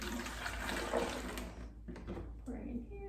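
Liquid seaweed fertilizer is poured into a watering can, a continuous splashing, gurgling stream that cuts off midway, with a person talking over it.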